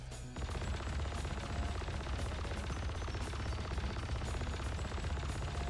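Turret guns fire in sustained rapid bursts during aerial combat in Frontier Fighters, a dense, steady rattle of gunfire that starts abruptly and continues loud and unbroken.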